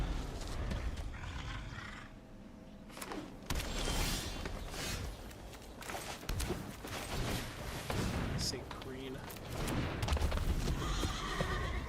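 An artifact horse creature card in Magic The Gathering Arena gives a loud synthetic whinny and neigh with clip-clop hooves, a brief game sound effect layered over other busy interface noises and a talking voice.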